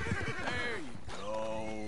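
A horse neighs in a PS4 game, a loud rising and falling whinny with a second drawn-out neigh after a short gap, over faint hoof clatter and a voice.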